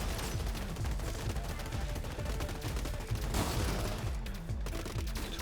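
Rapid, steady gunfire from robot units in the strategy game Gladiabots, machine-gun rattle mixed with heavier shotgun and sniper reports, continuous and fairly faint throughout.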